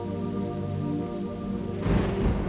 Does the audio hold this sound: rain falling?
yes